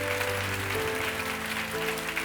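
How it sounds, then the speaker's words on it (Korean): A church congregation at a healing service claps together in sustained, dense applause, steady and moderately loud throughout. "우리 주님께 감사의 영광의 박수 올려줬으면 좋겠습니다."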